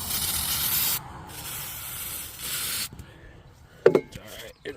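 Starting fluid is sprayed into a two-stroke snowmobile engine, a close hissing burst lasting about a second, then further sprays in short bursts with a brief rattle toward the end.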